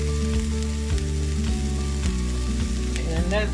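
Finely chopped cabbage dropped into a hot frying pan for a mixed vegetable and shark fish fry, crackling and sizzling up close while a tonal music bed plays over it.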